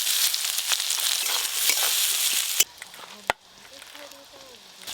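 Onions sizzling loudly in very hot oil for a Bengali fish curry, a steady bright frying hiss that drops sharply partway through, followed by quieter sizzling with faint voices in the background.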